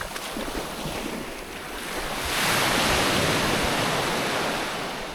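Pacific Ocean surf rolling onto a beach near a campsite, a steady broadband wash of waves that swells louder midway, with some wind buffeting the microphone and no voices.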